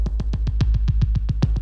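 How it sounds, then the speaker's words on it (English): Rapid, evenly spaced drum hits pulse over a constant low rumble, processed through a frequency shifter, each with a warbling, shifting tone that swirls oddly across the stereo field, no voices. "I have this frequency shifter, which is doing this kind of weird stereoization thing"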